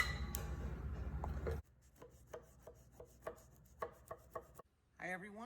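A knife cuts through layered, unbaked baklava in a series of short, distinct crunching strokes, close and fairly quiet, with a louder handling noise at the start and a brief rustle at the end.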